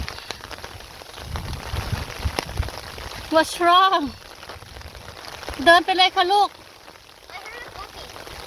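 Steady rain patters and hisses throughout in a public park, with people talking in brief bursts over it.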